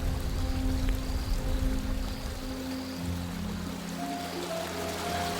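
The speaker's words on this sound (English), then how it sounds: "He looked toward the creek." Creek water flows steadily in a continuous broadband rush and trickle, fairly close, with faint tonal hums underneath and no voices.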